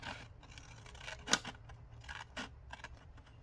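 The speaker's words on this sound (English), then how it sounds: "So take your scissors and start cutting." Quiet snips and crisp slicing of scissors through book pages come in short bursts, with one sharper snip standing out, close by and faint.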